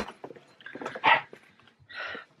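A puppy barks indoors: a short, fairly close yap about a second in, then a second softer bark near the end, with a faint voice and room noise between them.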